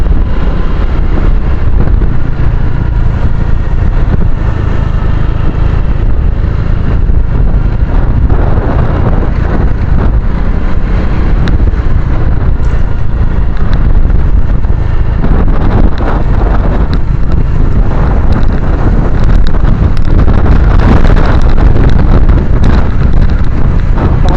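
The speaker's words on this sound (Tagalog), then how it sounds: "Nakasalubong sa atin yung hangin." Strong, steady wind roars and buffets a microphone nonstop, loud and rumbling with gusty surges throughout.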